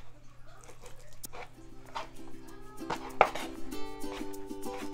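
A knife chops sushi filling, including crab meat, into cubes on a board, a few sharp taps against steady low background hum, while a dog whimpers and yelps faintly nearby.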